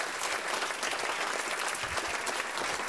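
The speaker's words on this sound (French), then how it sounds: "On peut l'applaudir bien fort" An audience at a Harry Potter comedy show applauds loudly and continuously, a dense wash of many hands clapping without pause from start to finish.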